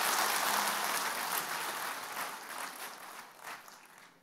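An audience at a DXN customer gathering in the UAE claps together, a dense sustained applause that is loudest at the start and slowly tapers off over a few seconds, with no talking over it.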